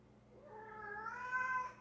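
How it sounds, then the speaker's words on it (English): A house cat meows in a long drawn-out wail that rises in pitch, faint and somewhat distant, alone without any talking over it. "I don't know if y'all can hear my cat, but he's bugging out"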